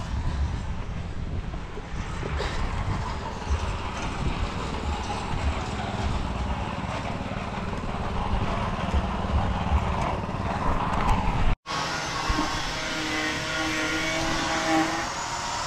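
The engine of a concrete vibrator runs steadily during a pour of concrete posts, a loud continuous motor drone with wind noise, briefly cutting out before resuming.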